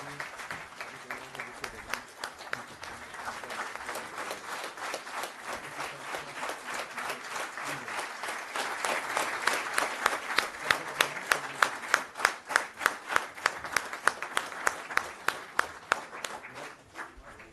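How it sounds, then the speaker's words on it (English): A standing ovation at an Institute of Chartered Accountants of India oath-taking ceremony, with broad crowd applause that gradually turns into loud, rhythmic unison clapping beating steadily in the hall for many seconds. "may I request everyone to please give them a big round of applause with a standing ovation"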